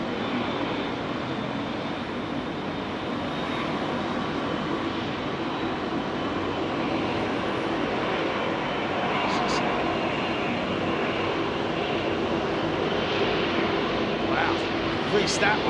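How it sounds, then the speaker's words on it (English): An Iran Air airliner touches down on runway 27R at London Heathrow, its engines giving a loud, continuous broadband roar that holds steady throughout at close range. "Iran Air 330 touching down on runway"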